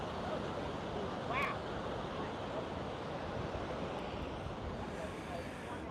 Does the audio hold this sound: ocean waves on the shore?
yes